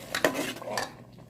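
A spoon stirs taro masala in a pan, giving a couple of quick metallic clinks and scrapes in close succession before the sound fades out.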